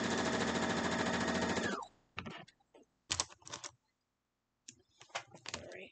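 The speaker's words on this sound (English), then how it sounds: "Just sew them together so I can get everything off of there." A sewing machine stitches quilt block pieces, a cornerstone and border piece joined together, running in a steady fast mechanical patter for about two seconds before stopping, followed by scattered handling clicks and rustles.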